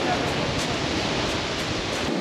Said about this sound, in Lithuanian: bangos tai konkrečiai didelės